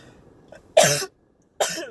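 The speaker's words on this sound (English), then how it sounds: "Sorry for all the coughing." Two sharp, harsh coughs from one person, close by, separated by a short pause, with a faint throat sound just before.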